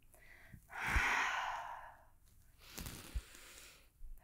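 A long, audible exhale breathes out during a power yoga warm-up, a soft airy rush lasting about a second, followed by a quieter second breath and light movement sounds.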